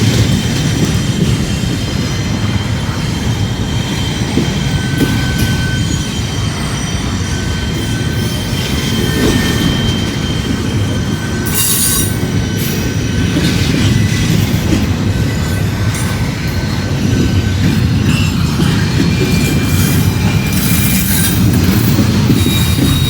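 Train wheels squealing steadily through the middle of a curve, loud and sustained over a rumbling, continuous roll of railcars, with high-pitched squeals rising now and then over the constant grinding.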